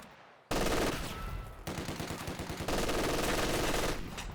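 Loud sustained machine gun fire in the strategy game Company of Heroes 2, long rapid rattling bursts with a brief break between them, heard alone without talk.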